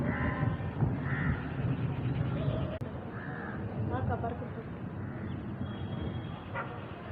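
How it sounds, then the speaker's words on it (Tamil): Crows cawing outdoors in rainy weather, several brief caws scattered through the clip under near-continuous talk, with a dog barking faintly. "அங்கெல்லாம் ஃபுல்லாக காக்காலாம் உட்காந்துட்டுருக்கு."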